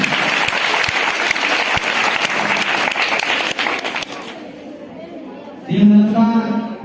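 Loud applause from a quiz audience fills most of the stretch as dense, steady clapping, then fades into quieter sound before a burst of voices near the end.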